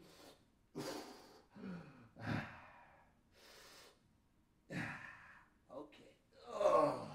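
Deep, audible breaths during a yoga forward fold pose, slow heavy inhales and exhales with gasps and sighs, several separate breaths spaced across the stretch, close and moderately loud.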